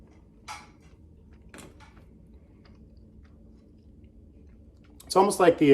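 Someone eating food from a Nuchas Goldbelly delivery makes a few soft, close chewing and clicking sounds in near silence, before a voice starts talking at the end.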